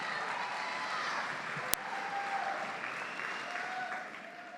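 Commencement audience at an SMU Lyle School of Engineering ceremony applauding steadily for the new graduates, a dense, sustained clapping from a large crowd with one sharp click partway through.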